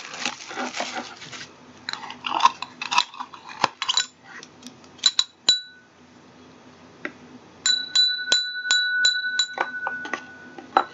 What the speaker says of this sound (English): So that's the chime.